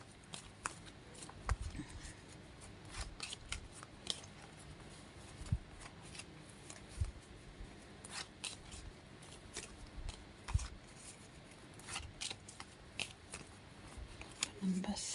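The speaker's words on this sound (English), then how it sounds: "Think about it as I shuffle." A deck of tarot-style cards is shuffled by hand for a card reading, a quiet, close run of soft riffles and scattered slaps repeating unevenly for several seconds.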